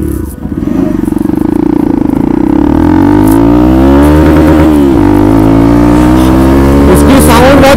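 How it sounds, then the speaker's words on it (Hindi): Hero Xpulse off-road motorcycle with a loud aftermarket exhaust, revving hard close up, rising and falling engine pitch that fills the clip. "इसका एग्जॉस्ट बड़ा मस्त है।"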